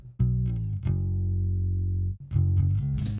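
Bass guitar through an amp simulator rings out with a gritty, amp-like tone, a few short plucked notes followed by a long held note, then more notes.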